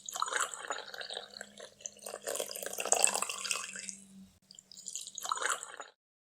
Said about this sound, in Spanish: Ahora transportaremos la mezcla al recipiente con spray